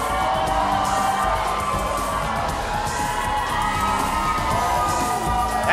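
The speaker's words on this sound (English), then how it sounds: "As you can tell, it is a raucous crowd." A raucous arena crowd at the Delta Center cheers and shouts before a Utah Jazz game on John Stockton's jersey-retirement night, a dense, loud roar of whoops sustained throughout.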